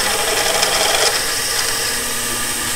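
A drill bit cuts a hole in a steel hex-to-square helical pile adapter, producing a loud, continuous grinding rasp with a steady motor hum underneath.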